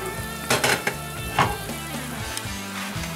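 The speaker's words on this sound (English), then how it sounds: "I've got 5 quarts of boiling water, 1 tablespoon of olive oil, and 2 teaspoons of salt. Just coming to a boil." A pot of salted water with olive oil on the stove for linguine, giving a steady sizzling, bubbling hiss close by with a few brief clinks of cookware and no voices.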